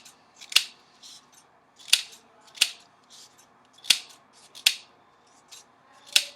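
Scissors snipping through stacked strips of yellow and orange coloured paper, six crisp separate cuts spaced about a second apart, close and clear against a quiet background.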